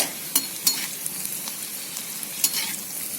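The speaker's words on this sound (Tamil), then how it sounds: "இப்போ எப்படி நான் இஞ்சி வறுக்கிறனோ அதே போல் இஞ்சி 4 அதுக்கப்புறம் இதை எடுத்துட்டு பூண்டு 4 போட்டு வறுத்துக்கோங்க" Ginger and garlic frying in hot oil give a close, soft sizzle, with a few quick clicks of a spoon stirring against the pan.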